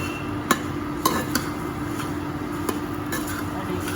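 Puffed rice is stirred in hot oil in a pan, a soft steady sizzle and rustle broken by several sharp scrapes and clinks of a utensil against the pan, close up with no talking.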